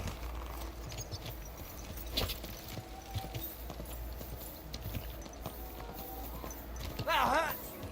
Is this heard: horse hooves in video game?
yes